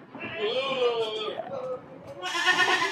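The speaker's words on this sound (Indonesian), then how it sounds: "kalau ada modelnya silakan pelihara kambing seperti ini" Boer goats on a farm bleat in wavering, drawn-out calls that overlap one another, fairly loud and close, with a brighter burst of bleating near the end.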